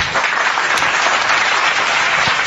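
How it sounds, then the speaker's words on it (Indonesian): Steady, dense applause from a crowd at a debate event, filling the whole stretch at an even, loud level with no pauses. "Tepuk tangan."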